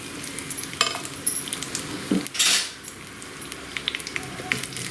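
Cumin seeds, mustard seeds and dried red chilies crackle and sizzle in hot oil, with a seasoning tempering for cucumber chutney, as a spoon stirs and scrapes the pan; a steady close frying hiss with a burst of louder sizzling midway.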